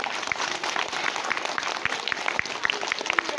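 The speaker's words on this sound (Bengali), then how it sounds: "করতালি" A crowd claps at a kindergarten results ceremony, with a steady run of close, crisp handclaps that holds for the full stretch with no talking.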